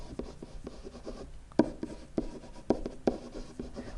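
Pen or marker writing by hand while working an algebra problem on finding inverses, a soft continuous scratching with sharper strokes and taps recurring every half second or so, close and fairly quiet, with no talking.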